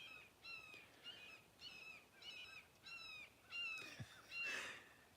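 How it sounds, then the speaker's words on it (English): Crows caw repeatedly at sunrise during a December heatwave, a series of harsh, evenly spaced calls at moderate distance, with other birds calling faintly and a brief low thump near the end. "Do you guys hear the birds?"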